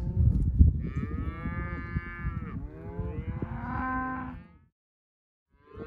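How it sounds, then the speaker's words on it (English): Several cattle moo in long, drawn-out calls, close by and loud, overlapping with wind rumble at an overnight holding spot, ending in a brief silence before another call starts. "Got the cows where we're going to keep them overnight."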